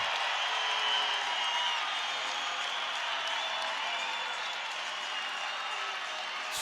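A home crowd in a college basketball arena cheers and applauds during a timeout in a New Mexico State versus Grand Canyon game, a broad, steady wash of noise that stays at a constant moderate level throughout.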